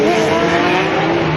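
A Lamborghini Gallardo V10 GT race car, just under 1,300 kilograms, brakes hard into turn 9 during an Australian GT race, its engine roaring loudly and steadily with tonal drone throughout the short burst.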